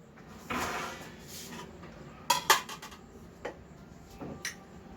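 A metal plate is set down inside a biryani pot holding ghee and bay leaves, making a pair of bright clinks among quieter handling clatter and a few soft knocks.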